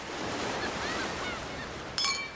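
Ocean waves wash on a beach in a steady, broad surf hiss with wind noise, fairly faint and distant, and a brief bright chirp near the end.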